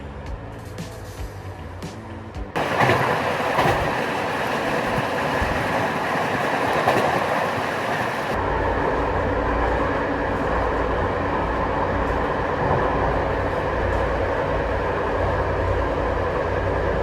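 Intercity Ister passenger train running on rails through Pest County, Romania, heard from the rear carriage: a steady, loud rumble of wheels and track noise that swells after a few seconds and continues unbroken.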